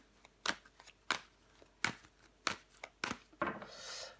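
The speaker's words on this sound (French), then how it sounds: "On va recouvrir des cartes." Tarot cards slapped down and flipped over one after another on a table, a series of about seven crisp, close card snaps at irregular intervals, ending in a softer sliding shuffle.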